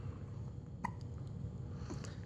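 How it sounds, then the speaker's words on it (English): A small child hiccups once, a brief sharp catch of breath rising over steady low background noise, quiet and close. "You got your hiccups and you're working on them."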